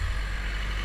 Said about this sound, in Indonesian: Di sana ada truk.